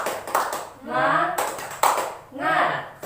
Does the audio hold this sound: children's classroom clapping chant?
yes